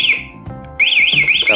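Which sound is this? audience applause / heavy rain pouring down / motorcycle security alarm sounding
motorcycle security alarm sounding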